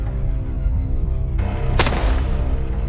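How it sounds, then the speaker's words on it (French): A single sharp gunshot in a street in front of a bakery cracks out loud and close about two seconds in, over a steady low rumble of background noise. "Une première détonation retentit."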